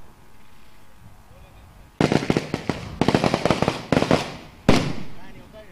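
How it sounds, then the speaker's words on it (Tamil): Firecrackers burst in loud, rapid crackling volleys at an outdoor cricket semi-final, several dense bursts over a few seconds and a final sharp bang, after quiet crowd murmur. "இந்த வெடி எதுக்கு ஆரம்பிச்சாங்கன்னு தெரியல"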